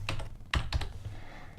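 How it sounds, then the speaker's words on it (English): A few quiet keystrokes on a computer keyboard, soft separate clicks in a short burst, alone without speech. "So type COL."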